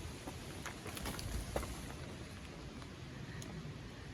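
Steady rain patters continuously around a hay storage shelter, a dense hiss with scattered drip taps, moderately loud and unbroken throughout.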